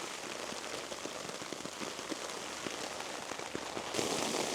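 Hailstones pelting a tarp over a rainy woodland camp, a dense steady patter of hard little impacts that swells louder near the end, with no voices.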